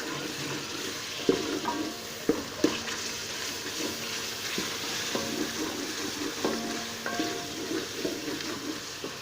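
Oil sizzles steadily in a pan while a spoon scrapes and stirs a tempering with salt, chilli and turmeric in repeated strokes, with sharp metallic clinks against the pan.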